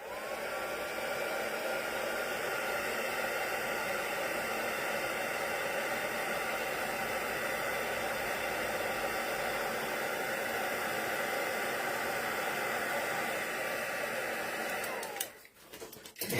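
A heat embossing gun blows steadily over a handmade card, giving a constant soft, hissing whir like a hair dryer that stops abruptly near the end, followed by a brief clatter.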